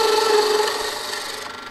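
A woodturning tool rounds over the top of a wooden candle holder spinning on the lathe, a close, steady scraping rasp that fades slightly over a brief stretch with no voices.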